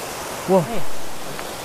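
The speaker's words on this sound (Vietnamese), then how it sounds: "Đây là cái con suối ở bên Việt Nam mình." A mountain stream flows on the Vietnamese side of the border fence, a steady close broadband rush of water with a brief voice sounding over it.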